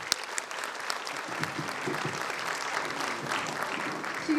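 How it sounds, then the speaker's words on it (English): Steady, moderately distant audience applause at a medical institute's convocation ceremony, continuous clapping throughout with no voices standing out. "Please give a big round of applause, everyone"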